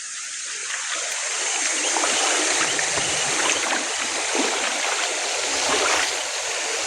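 Continuous splashing and rushing water as someone moves through a stream, steady and close with no talking.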